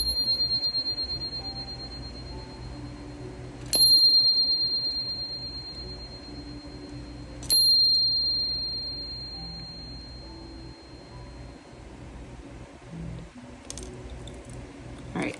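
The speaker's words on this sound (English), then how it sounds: "I am going to be ringing this mini Gaia bell." A mini Gaia bell is struck twice, several seconds apart, each strike giving a bright, clear ring that decays slowly over a quiet, faintly hissing background; no one speaks.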